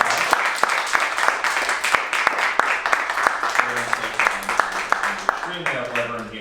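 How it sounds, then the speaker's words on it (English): An audience claps for a panel at a music industry talk, with sharp individual claps in an uneven rhythm near and clear. Speech starts up over the clapping toward the end. "let's give a round of applause for the panel."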